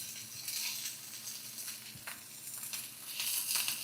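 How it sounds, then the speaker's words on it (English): Chopped vegetables hit a hot pan and sizzle and crackle steadily, a bright continuous frying hiss with small pops, fairly quiet and with no talking. "We're gonna pour in our veggies. I love the sizzle."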